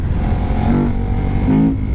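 Remapped KTM 1190 Adventure motorcycle engine heard from the rider's position while riding, a loud continuous drone with rising and falling tones as the revs shift, mixed with wind rush.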